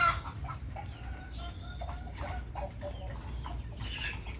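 A brooding hen sitting on a clutch of about ten eggs clucks in short, repeated bursts close by, with other fowl calling faintly in the background over a steady low rumble.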